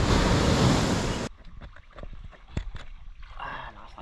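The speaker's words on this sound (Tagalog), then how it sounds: "Lakas ng agos." Rushing sea current roars loudly for about a second, then cuts to quieter splashing, knocks and sloshing against a boat hull near an island after a typhoon.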